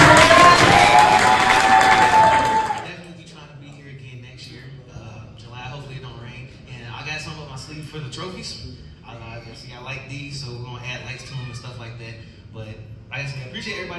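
A crowd at a car show claps and cheers loudly for a few seconds, then the applause fades into someone talking over a PA system in an open outdoor space.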